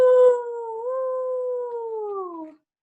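A single long howl rises and slowly falls as it fades, clear and close, sung as a wolf in a children's story reading, most likely a voice imitating the call.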